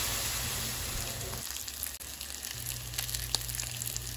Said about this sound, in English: Then we're gonna begin frying our steak.